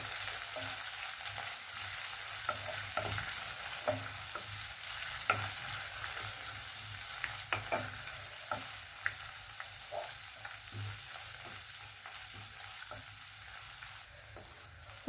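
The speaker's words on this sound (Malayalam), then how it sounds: "ഇനി ഇതിൻ്റെ അകത്തോടെ നമ്മൾ എടുത്ത് വെച്ചിരിക്കുന്ന മുരിങ്ങയില ഇട്ട് കൊടുക്കാം. ഇനി നല്ലോണം ഒന്ന് വഴറ്റുക." Drumstick leaves being sautéed in a pan for a Kerala-style curry: a continuous low sizzle with intermittent spoon taps and scrapes, close and quiet, with no talking.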